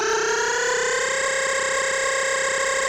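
Synth patch with a pitch-sliding effect and full bipolar panning, heard in a trap production session: a dense, steady buzzing tone with layered harmonics gliding slowly upward, loud and sustained throughout with no talking.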